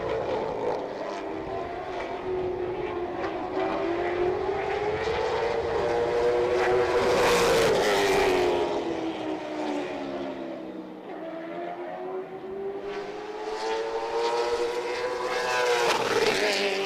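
CARS Tour race car on the South Boston Speedway oval during pole qualifying, a loud engine howl that rises and falls as it laps, swelling as it passes near and fading down the straight, with no voices.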